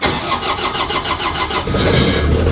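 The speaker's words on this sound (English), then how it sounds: "This Cummins generator has been clutch diesel." Cummins diesel generator cranking and catching, a rapid rhythmic churn that settles into a louder steady running roar, close by, running during a power outage.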